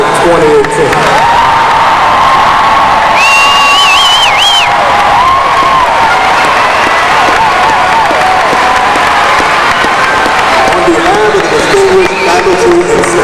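A large crowd at a 2018 high school graduation applauds and cheers loudly, with sustained clapping, whoops and shouts blending into a roaring, continuous wall of sound.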